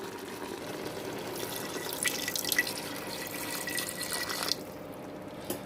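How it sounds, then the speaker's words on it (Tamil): Water is poured into a pot of chicken biryani gravy, giving a trickling, splashing pour that builds over several seconds and then cuts off, leaving a quiet simmer. "நம்ம இன்னும் கொஞ்சம் தண்ணி சேர்த்துக்கலாம்"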